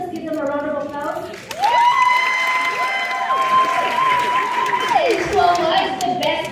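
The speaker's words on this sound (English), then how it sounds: "please let us give them a round of applause" An audience applauds and cheers at a women in film awards show at the Kenya National Theatre. The clapping swells under a loud sustained musical tone and a fanfare, with a voice audible during it.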